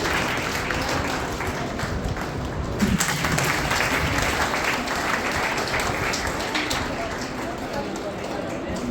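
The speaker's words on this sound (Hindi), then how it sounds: "जोरदार तालियां" Loud audience applause fills a class gathering: a steady, dense wash of many hands clapping that holds at an even level for nearly nine seconds.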